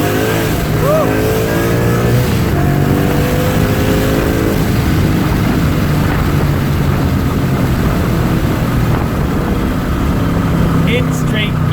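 An 800 HP Coyote V8 Mustang with a Paxton 2200 supercharger and automatic transmission makes a loud, sustained wide-open-throttle pull, engine and blower whine rising steadily in pitch close up, with a brief voice near the end.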